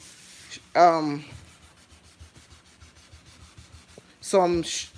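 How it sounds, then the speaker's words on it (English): A marking being scrubbed off a household surface by hand, with two loud squeaky rubbing strokes framing a stretch of softer, rhythmic scrubbing, close up. "I'm just scrubbing this."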